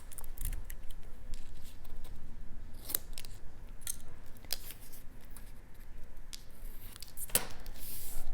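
Scissors snip through flower stems while arranging a floral piece, several sharp, crisp cuts spaced a few seconds apart against quiet room noise.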